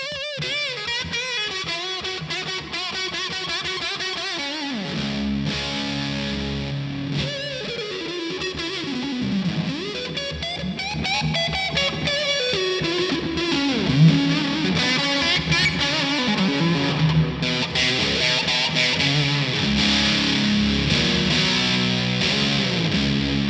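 Electric guitar played through a Way Huge Russian Pickle fuzz pedal and a Meris Mercury 7 reverb pedal, thick distorted notes and chords washing into long, shimmering reverb tails, loud and continuous with no talking.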